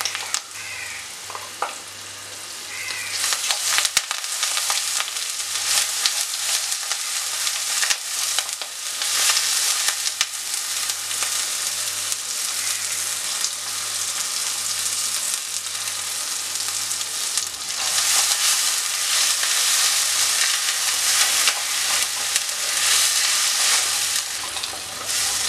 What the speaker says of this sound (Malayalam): ഇനി നമ്മളോട് അരച്ചു വെച്ചിരിക്കുന്ന അരപ്പിട്ട് കൊടുത്ത് ഒന്നുകൂടെ മൂപ്പിച്ചെടുക്കണം.